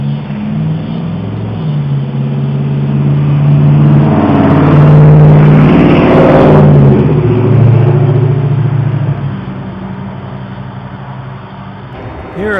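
A car on a residential street runs a stop sign at about 40 miles an hour, its engine and tire roar swelling as it approaches, peaking close by, then fading away.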